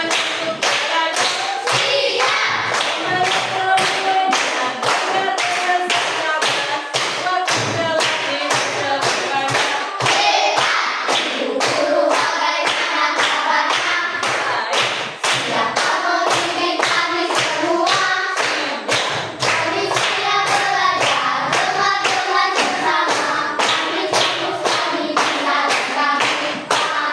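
Classroom of students doing a spirited rhythmic group clap chant, with fast patterned hand claps sustained loudly and evenly for nearly half a minute and only faint voices underneath.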